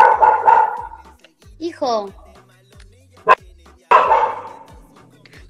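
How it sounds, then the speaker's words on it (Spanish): A large dog gives a few sharp, loud barks and a drawn-out whimpering whine, spaced between stretches of a person talking nearby indoors. "Mi perro no para de chillar."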